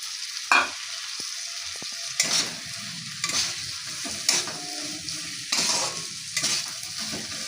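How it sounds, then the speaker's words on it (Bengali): Fried potatoes stir-fried in a spiced masala make spaced bursts of scraping and stirring, each roughly a second apart, over a low crackling sizzle, near and alone without talk. "এবার ভেজে রাখা আলুটা আমি এই মশলার মধ্যে আবারও কষিয়ে নেব"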